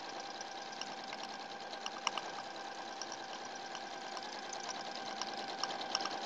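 A sewing machine stitches a log cabin quilt with a continuous, even motor hum and a fine rapid needle patter, fairly quiet and steady throughout with no voices.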